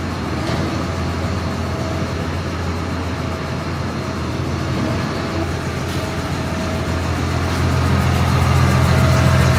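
A steady, loud Zoomlion PG2004 tractor engine (235 hp) with a Mericrusher MGS 241 STG mulcher drones and idles close by with constant low rumble, gradually growing slightly louder toward the end.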